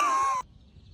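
A crow-like bird gives one loud, harsh, slightly falling call lasting under half a second, followed by near silence.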